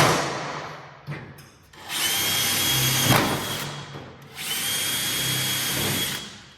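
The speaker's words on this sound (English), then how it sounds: "Now, drill 2 more." A power drill boring holes into the cowl panel of a Porsche 356 Speedster, heard close up in two sustained, loud whirring bursts with a short gap between them.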